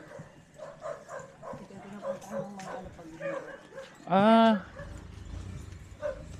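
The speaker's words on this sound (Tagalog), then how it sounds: "Uy, may mga ano, ay aso." People talk quietly in the background while a dog lets out a single loud, drawn-out bark or yelp midway through.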